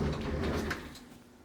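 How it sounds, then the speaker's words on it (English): Sliding closet doors in a lakeview hotel room at Tan-Tar-A Estates in Osage Beach roll along their track with a soft, rumbling slide that fades away within a second. "So first off we have a closet with the sliding doors."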